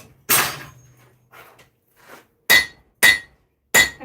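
Hammer striking hot metal to bevel a small steel blade, one heavy ringing blow followed by softer taps and then three sharp metallic clinks, close and loud.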